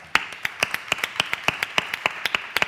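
Sparse, steady applause from a small audience at a talk, sharp individual claps ringing out in an even rhythm, close and clear with no voices over them.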